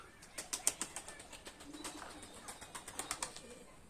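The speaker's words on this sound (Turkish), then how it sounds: "Kuşlarımızı saldık." Quick, soft broadband flutters of wings as released birds take flight, beating in rapid bursts, with a faint bird call or two in the open air.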